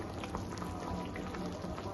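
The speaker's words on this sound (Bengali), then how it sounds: "ফুটছে মাছটা একদমই" A pot of thin rohu fish curry with potato and lentil dumplings bubbling at a steady boil, a soft continuous simmering burble with faint popping, close and quiet with no talk.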